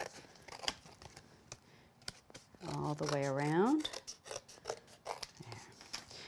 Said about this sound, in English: Be sure and angle your scissors so it doesn't cut into your die.